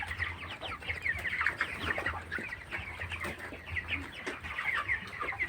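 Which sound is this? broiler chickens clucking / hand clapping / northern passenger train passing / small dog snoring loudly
broiler chickens clucking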